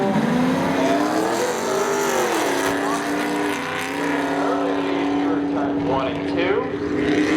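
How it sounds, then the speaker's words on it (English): Spectator drag race at Seekonk Speedway pitting a Pontiac Firebird against a 1999 Chevy Camaro, loud engines droning and revving together close by, with an announcer talking over them. "Pontiac Firebird of Corey Perry back here in round 2, alongside Ricky Johnson back in that 1999 Chevy Camaro."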